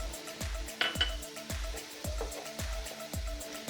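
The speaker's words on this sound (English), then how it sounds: "And you brown up your meat." Beef browning with garlic and ginger in a pan gives a soft, steady sizzle, punctuated by regular rhythmic knocks of a utensil against the pan, fairly close and quiet.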